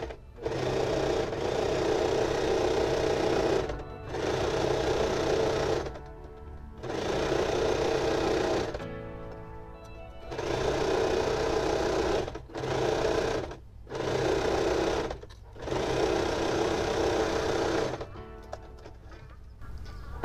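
A sewing machine stitches a black tulle blouse in several runs of fast, steady buzzing stitching, each a few seconds long, separated by short pauses, close and clear with no talking.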